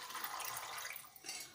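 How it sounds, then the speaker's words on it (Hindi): Water runs from a vessel into a cooking pan holding peas, a soft, steady hiss of pouring that carries on without a break and eases off near the end, quiet and close at hand. "अब हम इसमें पानी डालेंगे"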